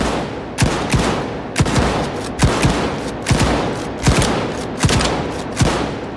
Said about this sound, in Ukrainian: наступний тест відстріл у боєкомплекту зброї